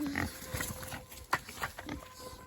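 Pigs grunting and oinking in an excited burst around feeding time, several short squeals and snorts scattered over a couple of seconds at close range, with a person's voice faintly mixed in.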